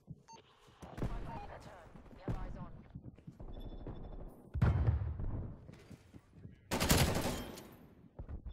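Bursts of LAPA submachine gun fire in a first-person shooter game, with sharp rapid volleys around the middle and a heavy burst near the end, mixed with game effects and other nearby shots.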